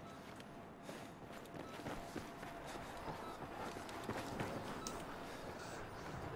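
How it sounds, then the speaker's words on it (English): Footsteps in the Battlefield video game come from the floor above, a run of soft, rapid thuds repeating steadily through the clip over low background noise. "I hear footsteps on"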